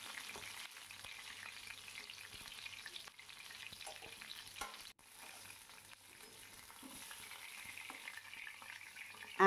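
Pieces of pointed gourd (potol) fry in oil, making a soft, continuous sizzle that stays even and fairly quiet throughout, with occasional light crackles and a faint stir.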